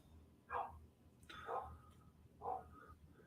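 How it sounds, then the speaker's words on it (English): A dog barks outside, three faint, distant barks spaced about a second apart against quiet room tone. "You might hear a dog now because apparently there's a crazy dog outside barking."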